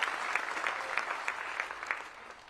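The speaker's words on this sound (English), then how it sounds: "Let's have another round of applause." Audience applause at a Raleigh Chamber of Commerce event, a crowd clapping together in a dense, steady burst that tapers off slightly toward the end, heard alone without talk.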